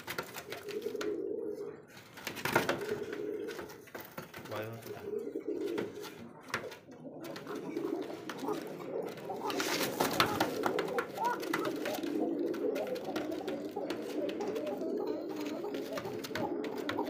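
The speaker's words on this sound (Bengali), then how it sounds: "একজোড়া ককা কবুতর, ডাকটা তো শুনলে দেখেন" A pair of cocka pigeons coo close by in repeated low, throaty phrases with short pauses between them, over faint background noise.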